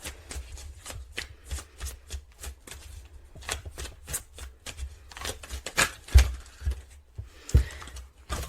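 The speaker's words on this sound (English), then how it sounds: "I will shuffle again." Tarot cards are shuffled in a steady run of crisp riffling flicks, close and fairly loud, with a few soft thumps as the deck is handled.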